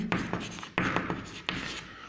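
Chalk or marker writing on a classroom board in short scratchy bursts, three clear strokes with pauses between, close and fairly loud with no talking.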